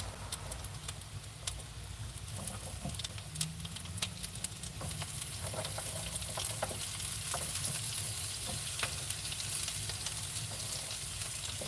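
Onions fry in a wok with a steady, quiet sizzle and crackle, small pops and stirring scrapes scattered throughout, no voices.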